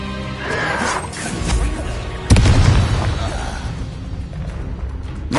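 A Confringo fire spell from Hogwarts Legacy explodes with a loud booming blast partway through, among other crashing combat effects. A dull rumble trails off behind it.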